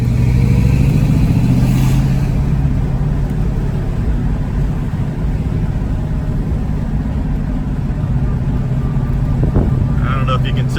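A 1966 Ford Mustang with a 289 engine runs rough after a cold start, a loud, close, continuous low rumble that stays uneven throughout.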